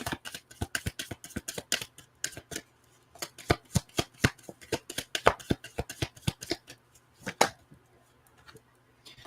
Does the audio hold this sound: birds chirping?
no